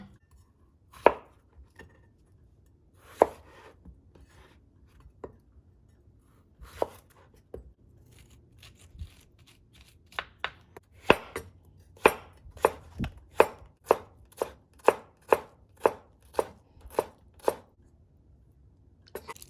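A knife chops shallot on a cutting board for cockle ceviche, starting as sparse separate strikes and speeding into a quick, steady run of sharp close taps.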